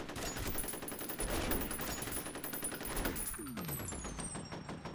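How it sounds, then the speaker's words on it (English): Rapid automatic fire from an AR-style machine gun in a monster-themed video game, a dense continuous burst of shots sustained loud throughout, with a brief shell or effect sweep near the end. "switch to the machine gun. The AR here."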